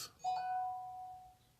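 A chime sounds on a phone as client messages arrive, a bright two-tone ding that rings out clearly and decays slowly over about a second, with no talk over it.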